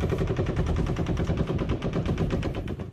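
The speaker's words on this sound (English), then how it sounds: "He fires his 12th and final burst as Corey Langdon leaves the Mandalay." A sustained, rapid burst of automatic gunfire at the 2017 Las Vegas October 1 mass shooting, shots fired from the Mandalay Bay hotel, steady and fast throughout, distant and echoing, with no voices over it.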